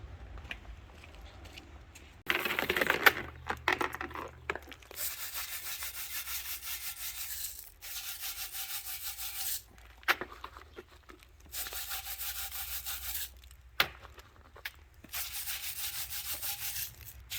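A brush scrubs honing grit out of the oil passages of an engine block being cleaned before assembly, in repeated rough rubbing strokes with brief pauses, close and alone.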